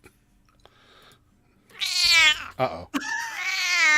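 A cat meows loudly and close, with two or three drawn-out, sassy yowls in the second half of a quiet indoor scene; a person briefly speaks before the cries begin.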